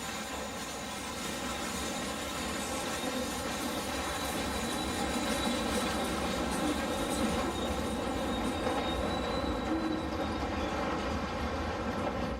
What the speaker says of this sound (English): This train is based in about 1971 and is also traveling west through the canyon.